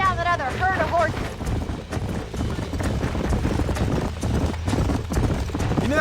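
Horse hooves clip-clop steadily in Red Dead Redemption, a rhythmic trot close by, joined by a brief neigh and wind noise while people talk over it.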